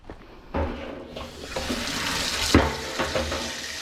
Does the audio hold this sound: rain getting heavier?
no